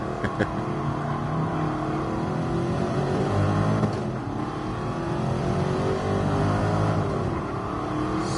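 A Mercedes AMG GT Black Series drives hard on the Nürburgring, its engine roaring continuously from inside the cabin with rising and falling revs through gear changes.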